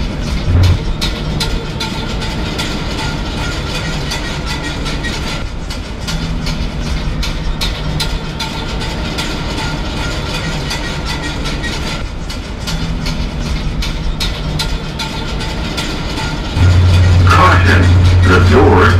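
An Amtrak train bound for Boston South Station rumbles loudly and steadily throughout, with rhythmic clicks and clacks on the rails and a louder surge near the end.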